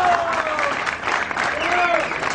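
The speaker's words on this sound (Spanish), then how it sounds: "Un aplauso al caballero." Audience applause for a man at a lively live show, a steady dense clapping wash lasting a couple of seconds, with some crowd noise and a voice running over it.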